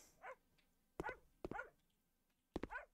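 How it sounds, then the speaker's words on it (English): A dog barks in the House Flipper Pets DLC video game, giving several short yipping barks in an irregular sequence, clear and close against a quiet background. "What are you barking at?"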